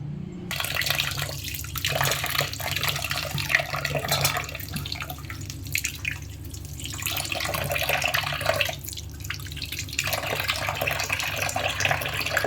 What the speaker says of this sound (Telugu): ఇప్పుడు ఇది కూడా వాటర్ క్లీన్ చేసుకోవాలి బాగా